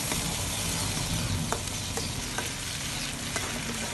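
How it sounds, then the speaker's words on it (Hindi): Masala of ginger garlic paste, tomato and chillies sizzling and frying in a pan, a steady loud hiss with a few soft stirring scrapes, close and without talking. "अदरक लहसुन का पेस्ट है, ये डाल देना और भूनना मसाला"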